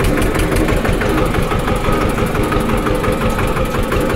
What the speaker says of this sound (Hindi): और अब ट्रैक्टर को चल दिए लेके घर की तरफ।